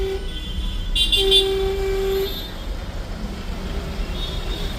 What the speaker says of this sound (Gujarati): Yes, Mumbai traffic.